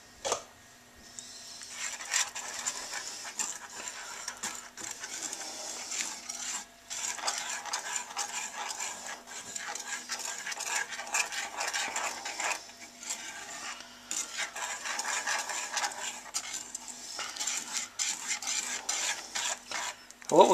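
Shrimp étouffée in a pot is stirred after more stock goes in, with repeated scraping and swishing strokes at a steady pace over a faint simmering hiss, close and without talking.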